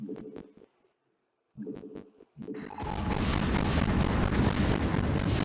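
A nuke detonating in the real-time strategy game StarCraft: Brood War, with a few short thuds and gaps of silence before a loud, rumbling blast that swells and roars steadily to the end.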